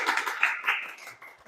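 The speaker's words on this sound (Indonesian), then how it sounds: "Berikan tepuk tangan untuk Radar Aceh Kartini." A classroom audience applauds a student group after its presentation with a brief, moderately soft patter of many hands clapping, no voices heard.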